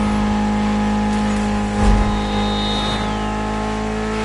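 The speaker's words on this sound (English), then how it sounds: "Mitsubishi gave us a nice inline four-cylinder with already 280 horsepower." Mitsubishi inline four-cylinder engine of about 280 horsepower in the racing game The Crew Motorfest, a steady droning hum at fairly even loudness with a brief swell near the middle, with no talk.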